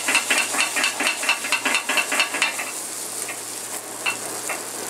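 Spanish omelette egg and potato mixture being stirred fast over high heat in a hot pan, a quick run of close scraping strokes in steady rhythm over a light sizzle that thins out toward the end.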